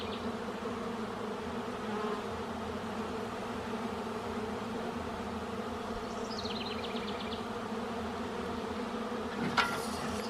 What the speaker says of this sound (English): Wow, look at all the bees here now.